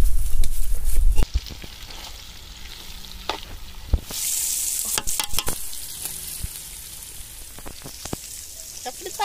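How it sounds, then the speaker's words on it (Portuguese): Crab fries in a pan at a campsite, giving a steady close sizzle broken by sharp clicks and scrapes of stirring, with a brief louder hiss midway. "Deixa eu fritar aí."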